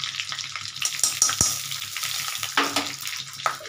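Ghee added to hot oil in a pan sizzles close by, a crackling fry with a few sharp pops and metallic clinks from a spoon, and no voices.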